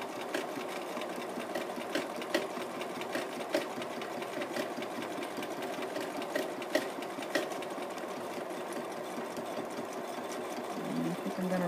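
A sewing machine stitches a seam with a continuous close, rattling mechanical whir, its rapid needle beat steady throughout with small periodic surges while bobbin stitching.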